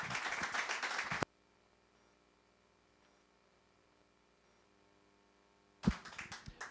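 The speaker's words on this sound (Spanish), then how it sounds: "terminamos con un aplauso" An audience at the close of an academic colloquium bursts into a short round of applause that cuts off into near silence, then lighter clapping resumes briefly near the end.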